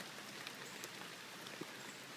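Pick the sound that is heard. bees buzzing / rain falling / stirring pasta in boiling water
rain falling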